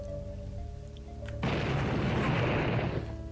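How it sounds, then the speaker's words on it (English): Explosions set off in the first-person shooter game Blood, a sudden loud broadband blast erupting partway through over a steady low game ambience and rumbling on for over a second before easing. "Caleb uses the Wiimote to set off explosions by waggling it"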